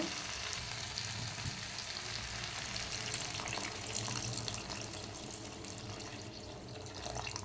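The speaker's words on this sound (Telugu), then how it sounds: "కొంచెం వాటర్ యాడ్ చేసుకుందాం" Water pours into a village-style curry cooking in a pan, giving a steady, soft rushing and bubbling hiss with no talk.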